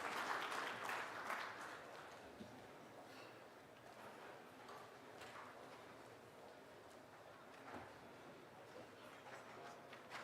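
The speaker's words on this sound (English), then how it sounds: "I request you to applaud as we invite our international speaker onto the" Audience applause at a cardiovascular and interventional radiology conference as an international speaker is invited to the dais, a steady, fairly distant wash of clapping from a seated crowd that holds evenly throughout.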